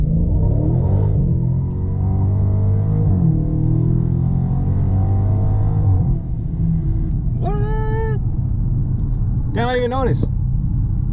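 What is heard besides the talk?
car accelerating in 0-60 run on new tires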